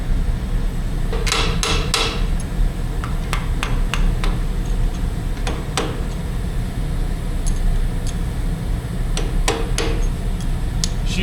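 A small lead hammer strikes a steel hydraulic cylinder on a worn John Deere JD410 backhoe in a run of sharp metallic blows, some in quick clusters, over a steady loud background rumble.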